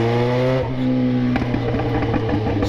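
A Yamaha XJ6 motorcycle engine revs at night through its exhaust pipe alone, a loud close growl that climbs and then settles into rough idle rumbles.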